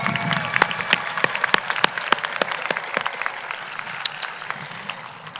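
Audience applause fills a high school commencement ceremony for the class of 2025, dense steady clapping from a large crowd with sharp individual claps standing out, sustained throughout and alone without talk.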